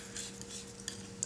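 A tiny dab of white paint is stirred into dark paint, making a faint, soft scraping with a couple of light clicks.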